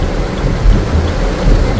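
Heavy rain pours steadily onto a vehicle stopped at the roadside in a storm, a loud, dense, unbroken wash of drumming with low rumbling underneath and no voices.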